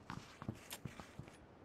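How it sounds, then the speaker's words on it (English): Footsteps in a battle-royale shooter, about six quiet, evenly spaced steps on a hard surface, faint and at a moderate distance, with no talk over them. "Thought I heard footsteps"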